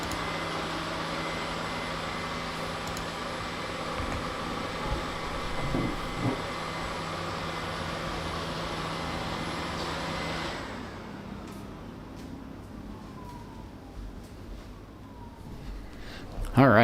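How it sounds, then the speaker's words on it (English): A household vacuum cleaner runs steadily and loudly at close range as a broad, constant roar, then cuts off partway through, leaving a quiet room with a few faint clicks and rustles. "The vacuum is turned on."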